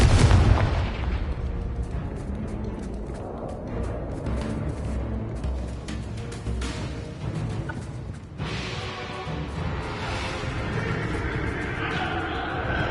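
Explosions from Confringo and Bombarda spells in the Hogwarts Legacy video game, a dense, loud run of booming blasts and rumbling bursts that overlap with hardly a pause.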